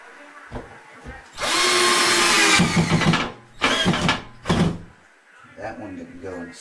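A power drill drives a screw into drywall during a hole repair: a loud, close whirring burst followed by shorter revving pulses, with a person talking in between.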